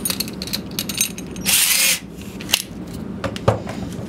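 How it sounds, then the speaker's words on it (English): A brief, loud burst of power drilling pocket holes into wood, surrounded by quieter clatter and handling noises. "Next step is to actually just drill your pocket holes."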